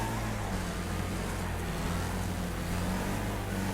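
The Rocket RX car's engine in the racing game Wreckfest drones steadily at constant volume during a 16-car online race, with no voices over it.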